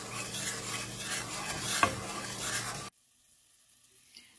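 A sugar and water candy mixture boiling in a pot, a dense bubbling and hissing with a brief clink of a utensil, which stops abruptly and leaves near silence.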